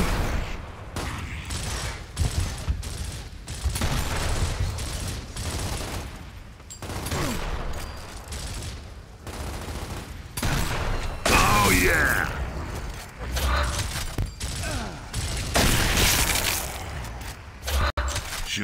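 Gunfire in the Gears of War: Ultimate Edition video game as propane tanks are shot, bursts of rapid shots and mechanical clatter with a loud blast, over game effects and intermittent voices.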